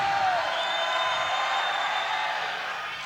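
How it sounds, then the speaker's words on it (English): A high school boys' basketball crowd in a gym swells into steady cheering and whooping as a player steps to the free-throw line, a sustained noisy roar that holds level and eases slightly toward the end. "and the crowd comes to life"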